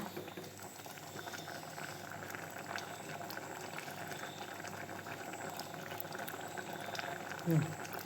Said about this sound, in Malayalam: നമ്മളെ നാരങ്ങ ഇട്ടിട്ട് നല്ല അടിപൊളിയായിട്ടെല്ലാം തിളച്ച് വന്നിട്ടുണ്ട്